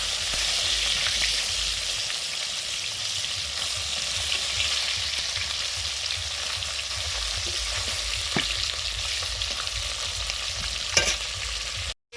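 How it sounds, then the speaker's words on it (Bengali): Koi fish frying in hot mustard oil in a pan, a steady, loud, dense sizzle that holds evenly throughout with a few faint clicks and no talking. "সর্ষের তেল দিয়ে দিলাম। কই মাছটা ভাজবো।"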